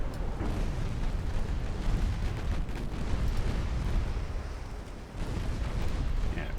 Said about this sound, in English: 7-inch guns actually doing damage